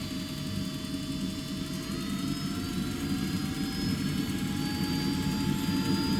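Kerosene-fuelled gas turbine on a large RC jet plane spooling up during a test start, a steady loud roar with a whine that slowly rises in pitch as the compressor accelerates, continuous throughout with no talk.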